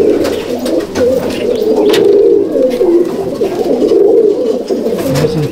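Close, loud cooing from two black male Madrasi pigeons, brothers in a loft, rolls on for several seconds in overlapping pulsing waves, with occasional light clicks and flutters.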